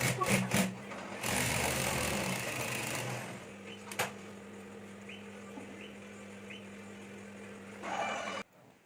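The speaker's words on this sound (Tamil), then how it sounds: "மெயின் கிளாஸ்லேயும் தையல் போட்டு போகிறோம்." A sewing machine stitches a dress sleeve, its motor whirring steadily in a quiet room after a short burst of louder handling noise.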